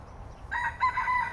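A rooster crows close by in a short, loud, drawn-out cock-a-doodle-doo, one of the chickens roaming free in Tampines Eco Green, a park in eastern Singapore.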